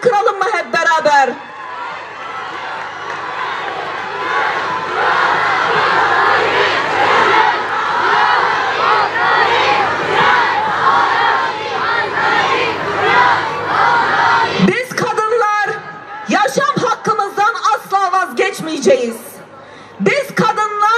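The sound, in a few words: crowd of women chanting slogan Jin jiyan azadi at rally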